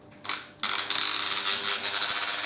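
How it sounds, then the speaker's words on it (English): A Dremel rotary tool cuts a hole for an RP-SMA connector in the plastic case of a Devo 7E radio transmitter, giving a close, harsh, steady grinding whine after a brief initial burst. "I will use this Dremel to"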